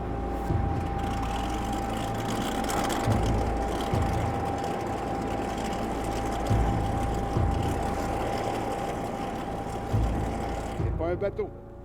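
Loud, steady hovercraft engine roar with a droning low hum and a constant whine, continuing throughout before cutting off near the end, with voices faintly underneath.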